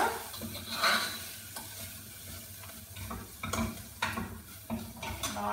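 Daal with turmeric sizzles in a pan while a spoon stirs it, giving a close, continuous frying hiss broken by irregular scrapes and taps against the pan.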